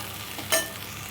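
Poha being stirred while it fries in a pan, with a steady low sizzle and a brief louder scrape of the spoon partway through, heard alone and close.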